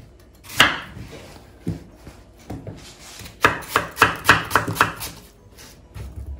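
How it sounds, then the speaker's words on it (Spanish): A knife chops an apple into small cubes on a board: a few separate chops, then a quick run of about six crisp strikes, then a few more. The strikes are close and sharp, with no talking. "Ahora vamos a proceder a cortar nuestra manzana"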